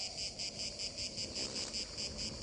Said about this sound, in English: Just listen to those grasshoppers